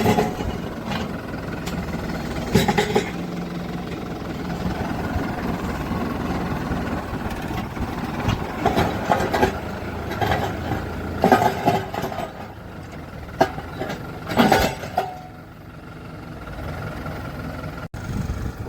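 A tractor engine runs at a steady mid-pitched rumble through the whole stretch, with occasional knocks and clatters over it, fairly close and with no talk.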